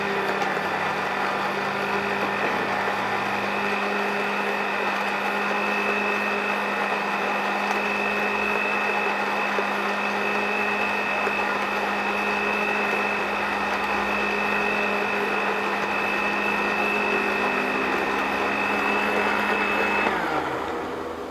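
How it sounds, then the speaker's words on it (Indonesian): Electric blender running continuously for about twenty seconds, mixing a herbal remedy with roughly 200 cc of water until smooth, with a steady loud whine before the motor winds down at the end. "Biarkan blender sampai halus."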